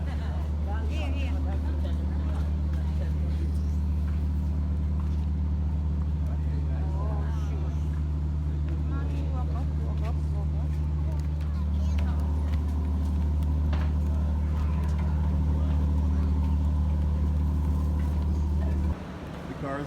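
A boat's engine drones with a steady, deep hum and strong low tones throughout, as cars and passengers board for a sailing in Trinidad. People talk and call out over the constant mechanical rumble.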